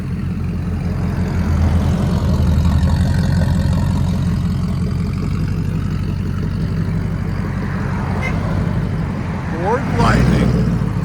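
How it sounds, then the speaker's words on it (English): A 2000 Ford Lightning pickup with a supercharged 5.4L V8 and a full Borla ATAK exhaust rumbles with a deep, steady throb as it pulls away. The engine swells near the end, and talk is faint in the background. "I'm gonna have him drive it down the road just so you guys can hear it drive off on it"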